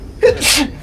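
A single sharp human sneeze, close and fairly loud, with a quick intake of breath just before the burst, heard during a tabletop game session.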